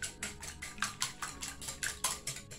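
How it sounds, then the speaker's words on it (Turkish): Eggs being whisked briskly in a bowl for börek batter, a steady run of about a dozen sharp clinking strokes at an even rhythm, close and fairly quiet with no talking. "şöyle bir çırpalım"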